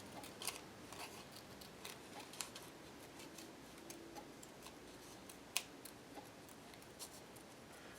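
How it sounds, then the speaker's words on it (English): Scissors snip through paper in small, quiet, irregular cuts, with close soft clicks and ticks spread across the stretch and one sharper snip near the end. "I always wiggle my scissors a little bit so that the edge isn't too straight."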